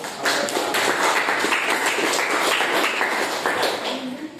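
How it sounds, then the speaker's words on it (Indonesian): Students in a classroom clap together in a dense, steady patter lasting several seconds, close and fairly loud, with faint voices mixed underneath. "Tepuk tangan untuk"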